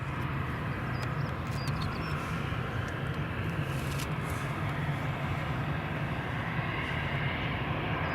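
A United airliner taking off at Edinburgh Airport makes a loud, steady, broadband engine roar that stays constant throughout.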